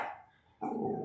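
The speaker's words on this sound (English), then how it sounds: "The dogs are barking." A dog barks loudly and close by, first one bark and then another after a short pause, with no talking heard.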